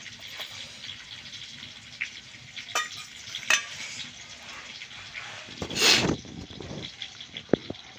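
Ginger, cumin and chilli pastes fry for a Bengali rui fish curry, giving a soft crackling sizzle. Scattered sharp clinks and scrapes from stirring cut in, with a louder burst of spitting near the end.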